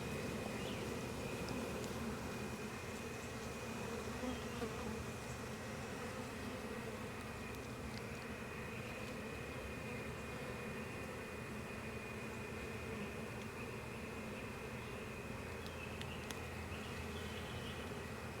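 Honey bees buzz steadily from an open beehive, a continuous faint drone with no break and no voices.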